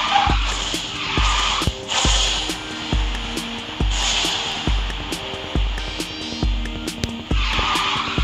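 A C-class Challenger car races in Garena Speed Drifters with a constant engine drone, broken by repeated loud tire-skid bursts about every second as it drifts.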